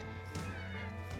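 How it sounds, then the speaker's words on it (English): A cat meows from underneath a parked 2009 Ford Ranger PK pickup, a faint, short, tonal cry heard alone at low level against a quiet background. "Under the car you'll find a cat."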